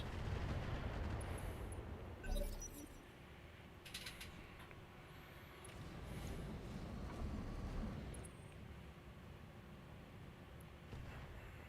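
Long-range missiles launching in the Battletech/Roguetech mech game, a muffled rumbling barrage with scattered thumps and mechanical whooshes, fairly faint and continuous.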